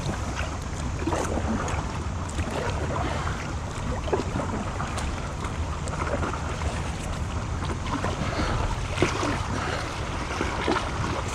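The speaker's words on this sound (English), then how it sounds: "I will probably have to get out and walk my board through these tiny little rapids" Small river rapids rush around a paddleboard during a summer trip for smallmouth bass, a steady close wash of moving water mixed with wind buffeting the microphone, with no talking.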